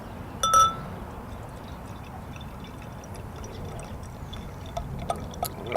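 Barleywine beer is poured into a chalice, giving a steady soft fizzing, foaming rush with a brief clink of glass early on and faint bubbling and pops toward the end.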